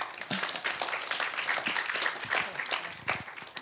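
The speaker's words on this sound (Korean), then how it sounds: "박수 한번 해주십시오." An audience at a chemistry research institute talk concert claps vigorously, with quick uneven hand claps close by and loud throughout before the applause begins to thin at the end.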